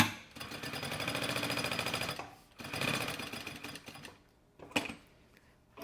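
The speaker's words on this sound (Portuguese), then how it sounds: "E aí eu faço uma costurinha em todos os cantinhos" A sewing machine stitches the corners of an anti-theft backpack's lining in two rapid rattling bursts of about two seconds and one second, followed by quieter clicks and handling as the fabric is turned.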